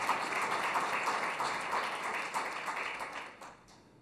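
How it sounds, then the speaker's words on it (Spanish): An audience applauds a book presentation introducing author Sergio del Molino, a dense burst of clapping that holds steady then tapers off over a few seconds. "Un aplauso."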